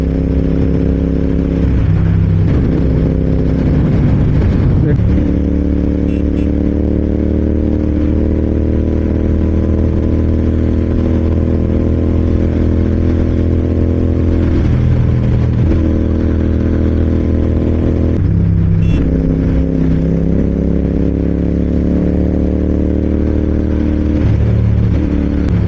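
A Royal Enfield Interceptor 650 motorcycle being ridden on a mileage test, its steady engine drone loud and continuous throughout, with small throttle dips and shifts and no talk over it.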